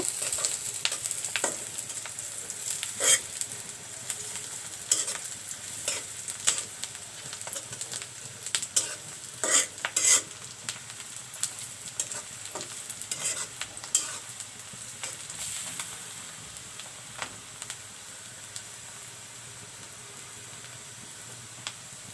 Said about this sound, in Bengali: আমি একটু হালকা করে পেঁয়াজ ও কাঁচামরিচ ভেজে নেব।